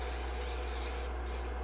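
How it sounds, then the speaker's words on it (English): An aerosol spray can hisses onto a grill pan in a kitchen, one continuous close spray lasting under two seconds, with a low electrical hum beneath. "And we want to spray it with cooking spray."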